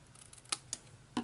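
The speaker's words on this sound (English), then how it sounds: "I'm just going to cut this off on the back" Scissors cut through paper on the back of a handmade fringe heart craft, giving a few sharp, close snips spaced across a quiet moment with no talking.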